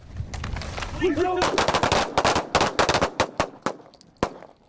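Machine-gun fire at military shooting practice in the Arctic: a brief voice, then loud, sharp bursts and single rounds cracking in an uneven rhythm that thins out toward the end.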